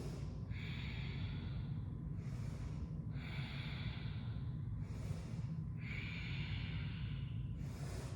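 Deep, close breaths during a seated yoga twist come as slow nasal inhales and exhales, four or five long airy rushes at a calm, even pace over a soft low background hum.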